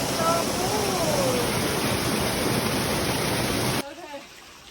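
Titi Kerawang waterfall running full, a loud steady broadband roar of rushing water that holds constant for nearly four seconds before cutting off abruptly to a much quieter background, with faint voices under it.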